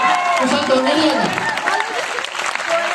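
A large student audience at a Hindi poetry recital held at a medical college in Meerut claps and cheers in sustained applause, while a voice speaks over the crowd.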